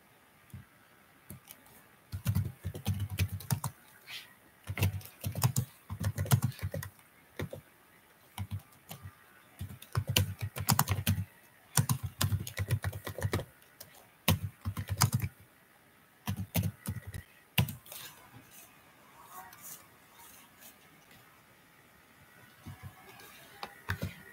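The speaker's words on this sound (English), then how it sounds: "I'm writing my contact in the chat." Typing on a computer keyboard in irregular bursts of quick, close key clicks with short pauses, tapering off toward the end.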